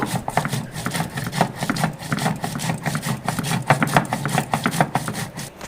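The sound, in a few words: grinding green chili finely on a grinding stone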